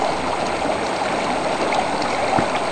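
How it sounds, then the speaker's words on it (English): The Carson River flows in a steady, even rush of moving water, continuous and fairly close, with no voices over it. "here we are on the Carson River"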